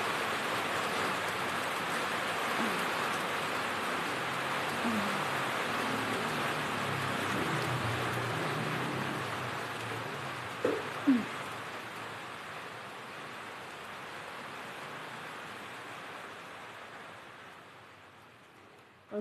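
Steady rain pouring down, a dense even hiss that holds for most of the stretch and slowly eases toward the end, with a couple of faint brief knocks midway.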